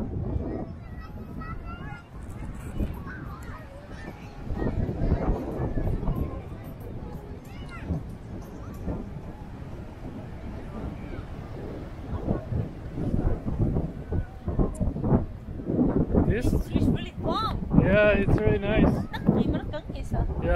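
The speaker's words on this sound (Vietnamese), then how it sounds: "hôm nay trời không có nắng nên cũng ít người tắm lắm, gió nhiều" Gusty wind blows across an overcast beach near Orlando, buffeting the microphone in rough, uneven rushes. People talk throughout, partly masked by the blustery noise.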